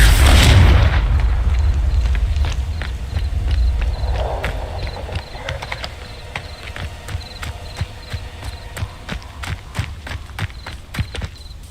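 Confringo spell explosion in Hogwarts Legacy, a heavy booming blast at the start that fades into a rumble, then a run of light, rapid footsteps and scattered clicks.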